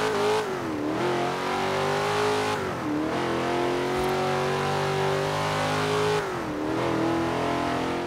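A car engine in Forza Horizon 4 holding steady revs with a clear, sustained tone, dipping briefly at each gear change, loud and close with no talking over it.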